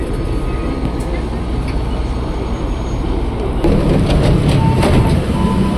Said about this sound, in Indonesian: KRL-nya kembali berangkat sebagai komuter lain tujuan Bogor